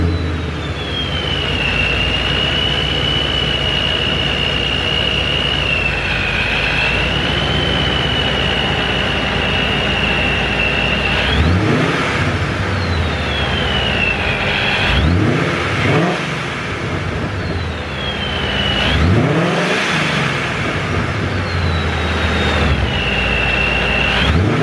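A boosted 5.0 Coyote V8 swapped into a car is revved hard several times, each rip climbing sharply before falling back to a steady idle, with a high whine running throughout.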